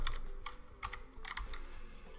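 Fingers type on a computer keyboard in short bursts of quick, fairly quiet clicks with brief pauses between them, close to the microphone and with no talking.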